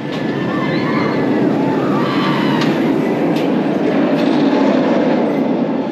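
Rumbling, rattling roar of a B&M hyper roller coaster train at PortAventura in Spain, steady and loud throughout with a high squealing wheel tone on top.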